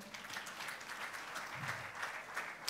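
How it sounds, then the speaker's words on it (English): A debate audience gives a brief round of applause, soft and fairly distant, with dense steady clapping throughout. "please, a round of applause for Dr."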